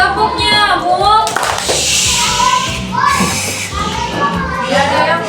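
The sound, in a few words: children clapping hands, mosquito-clap game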